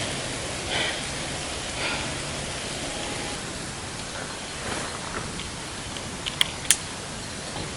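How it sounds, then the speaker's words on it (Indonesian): Light drizzle falls on a hiking trail up Mount Sindoro, a steady soft hiss of rain throughout, with a couple of sharp close ticks near the end. "hujan gerimis"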